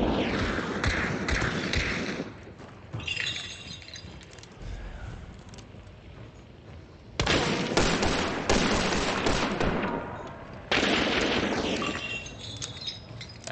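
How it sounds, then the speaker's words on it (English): Bursts of gunfire in the video game Hunt: Showdown, heavy cracking volleys and thuds arriving in clusters with quieter gaps between, loud and close, no talk over them. "Is he trying to shoot the walls at me?"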